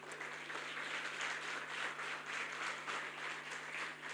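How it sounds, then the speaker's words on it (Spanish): A church congregation gives a round of applause, a soft, even patter of many hands heard at some distance over a low steady hum. "den un aplauso al Sergio"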